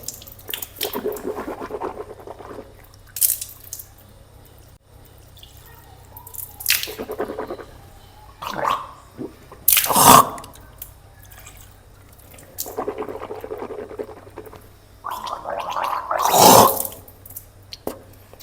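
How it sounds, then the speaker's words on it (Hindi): Water splashing and dripping as the mouth is rinsed during wudu ablution, with several short bursts of sloshing and spitting spread through the stretch, close and moderately loud over a low steady hum. "मुंह के अंदर पानी डाल करके मुंह के अंदर खूब घुमाएंगे।"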